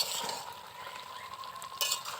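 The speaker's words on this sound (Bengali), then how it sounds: "এভাবে ঢাকা খুলে খুলে নেড়েচেড়ে মাংসটাকে ভালো করে কষিয়ে নিতে হবে" Duck meat being stirred in a pan as it cooks down in its own juices, a faint hiss of frying with soft scraping turns, brief and quiet.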